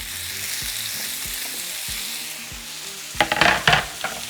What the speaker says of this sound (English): once hot, we're going to add 2 pounds of steak. I'm using flap steak that I cut into small pieces